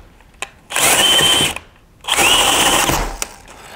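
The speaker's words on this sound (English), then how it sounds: "That's why you keep a handle on your drill so it doesn't smack the wall or your nose." A power drill bores through a house wall during an installation, running in two sustained loud bursts of high whine and grinding with short pauses between, close to the microphone and without talk.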